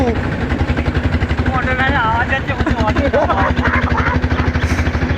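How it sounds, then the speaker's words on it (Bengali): A steady low engine drone with rapid rhythmic thumping of rotor beats from a helicopter flying overhead, while a person talks over it. "হেলিকপ্টারের আওয়াজ হচ্ছে"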